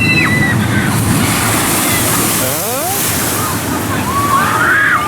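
A shoot-the-chutes boat ride at an amusement park comes in splashing through water, a steady loud wash of sloshing and spray with crowd chatter and whistling tones over it.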